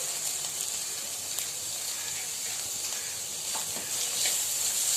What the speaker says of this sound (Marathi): एक कढई ठेवली आहे त्यात अगदी थोडंसं लहान चमचा तेल टाकायचं आहे आपल्याला छान कांदा लालसर परतून घ्यायचा आहे